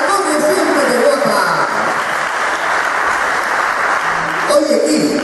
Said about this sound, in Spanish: Un fuerte aplauso para Daniela, como siempre de guapa!